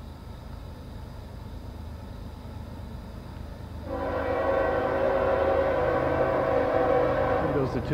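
Southbound freight train Q409 approaches with a rumbling drone, then a loud, sustained horn blast kicks in midway and holds to the end, close and dominant over the rail noise.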